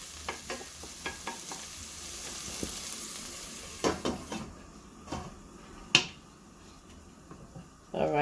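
Onions frying in a pan, a soft steady sizzle under a string of sharp utensil clicks and stirring scrapes, with one louder knock near the end.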